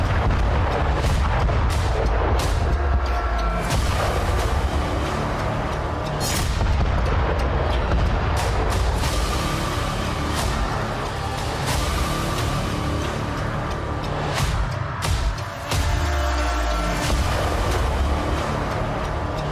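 Heavy booming blasts and rumbling detonations from attacks on Ukrainian cities roll on continuously, loud and dense, with sharper cracks scattered over a low sustained roar and no voices.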